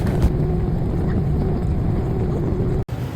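A Citilink airliner taxis to the gate after landing, heard from the cabin as a steady engine rumble and hum with a thin high whine, broken by a single sharp click near the end.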